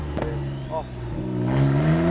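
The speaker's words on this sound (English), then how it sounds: "On the downshift, you get this incredible burble, this incredible sound that just is amazing to listen to." A Porsche 911 991 Targa 4S with a 3.0-litre turbo engine burbles on a downshift while driving. Short engine rumbles and a rising rev are heard from inside the car, mixed with voices talking.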